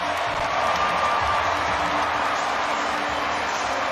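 Arena crowd noise at a Detroit Pistons home game against the Indiana Pacers on a Ben Wallace bobblehead night, a steady roar of cheering and chatter filling the basketball arena without letup.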